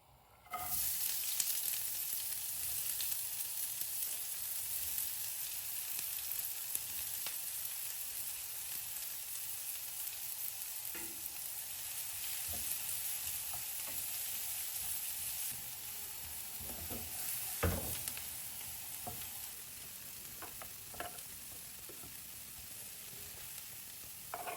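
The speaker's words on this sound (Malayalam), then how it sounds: "പിന്നെ ഒരു പാൻ ചൂടാകുമ്പോൾ അതിലേക്ക് ആവശ്യത്തിനുള്ള ഓയിൽ ഒഴിച്ച് നമുക്ക് ഈ വെജിറ്റബിളൊക്കെ ഒന്ന് വഴറ്റിയെടുക്കാം." Vegetables sautéed in hot oil in a pan sizzle and crackle continuously up close, with occasional sharp clicks and scrapes of stirring and no voices.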